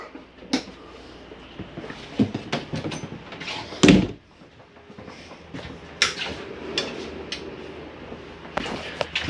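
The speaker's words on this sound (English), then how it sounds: "Make sure you lock this door." An RV entry door on a Jayflight SLX 32BHDS travel trailer is closed and locked, giving a few sharp clunks and clicks with one louder bang near the middle, all close-up against a quiet interior.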